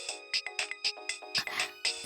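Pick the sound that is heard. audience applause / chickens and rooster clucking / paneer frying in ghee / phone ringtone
phone ringtone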